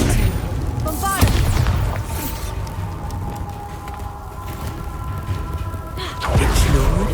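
Booming spell explosions in the video game Hogwarts Legacy, with heavy low blasts at the start and again near the end, plus whooshing magical effects and voices during the combat.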